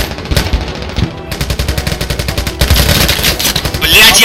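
Gunfire in the shooter Last Flag, loud and close: single shots give way to rapid automatic bursts that rattle in a fast, even rhythm.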